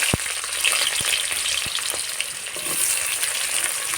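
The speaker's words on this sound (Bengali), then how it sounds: "এবার আমি পেঁয়াজ কুচিগুলো দিয়ে ভেজে নিচ্ছি" Chopped onions frying in a generous amount of oil for a dried-shrimp dish: a loud, dense, steady sizzle close up, with a few soft knocks from stirring and no talking.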